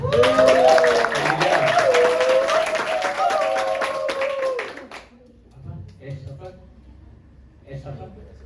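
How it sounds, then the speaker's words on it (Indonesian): An audience at a student theatre performance bursts into close, crowded applause for about five seconds while voices talk loudly over it, then the clapping stops and only scattered quieter sounds remain. "Tepuk tangan."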